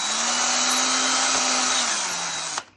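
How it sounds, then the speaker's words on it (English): A 3mm drill is run gently to clear a blocked jet on a vapourising oil AGA cooker, giving a close, steady high whine with a low hum that winds down and stops near the end. "I put it in, and I basically very gently drill."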